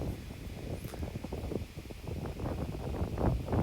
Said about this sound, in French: le vent qui arrive de la droite et qui souffle très fort